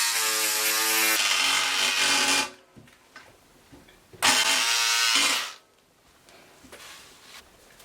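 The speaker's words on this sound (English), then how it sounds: "So I'll go ahead and cut this in the lower part." Scissors cut through dress fabric, making two long, dense crisp snipping passes of about two seconds each, separated by a quiet pause with faint handling noises.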